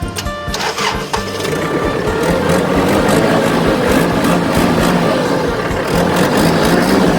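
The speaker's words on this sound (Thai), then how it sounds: "เครื่องสตาร์ทง่ายครับผม" A Kubota 45 hp tractor's diesel engine turns over and settles into a loud, steady idle, with a dense continuous rumble running close by for the whole stretch and no talk.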